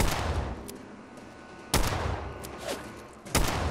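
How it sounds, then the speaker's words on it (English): A Mark 1 machine gun turret in Fallout 4 fires from some distance, a sustained rattle of gunfire with two sharper, louder bursts standing out against a dense combat backdrop. "Machine gun turret mark 1."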